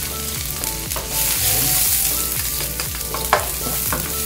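Onions sauté in hot oil for a bangus curry, a steady loud sizzle broken by repeated scraping strokes of a spoon or spatula, with one sharper clank near the end.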